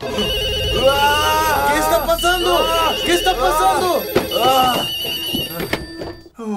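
A telephone at the end of a hallway rings in repeated electronic bursts, close and loud, while people talk anxiously over it.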